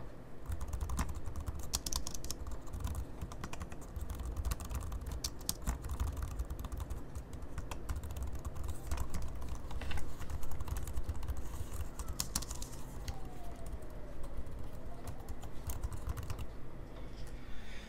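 Steady, rapid typing on a compact Subblim keyboard, close up, with dense overlapping key clicks continuing throughout and no talking.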